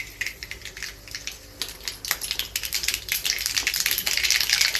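Mustard seeds dropped into hot oil in a kadai, a dense burst of sharp crackling pops and spits that grows busier and louder toward the end, close and without talk.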